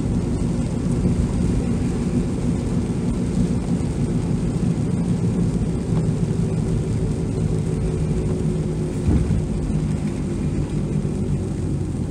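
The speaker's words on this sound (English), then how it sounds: "Raging storm" A raging thunderstorm with heavy rain on a road near Georgetown and Brampton, a steady loud roar of downpour with deep rumbling throughout, one stronger thump near the ninth second, no talk.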